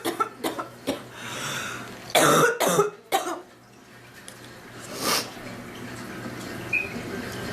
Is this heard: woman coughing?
yes